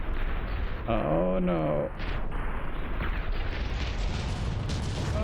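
Heavy battleship guns firing during a Grand Battleship Tournament match in From the Depths: loud booming blasts with rumbling low end, a tonal whine partway through, and a voice speaking over them.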